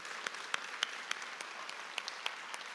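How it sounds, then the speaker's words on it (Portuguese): A church congregation applauds at a Portuguese-language service, a soft, distant wash of clapping with a few sharper individual claps standing out, and no talk over it. "Salva de palmas para esse time."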